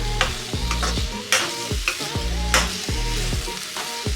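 Pumpkin halwa being stirred in a pan on low heat, a gentle sizzle under rhythmic scraping strokes of a spoon that repeat roughly every half second, close and steady.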